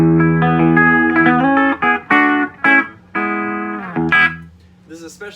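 Clean electric guitar notes and short chords are played one after another with clear pauses between phrases, a bright but slightly rounded tone, from a Strat with a small-value tone capacitor.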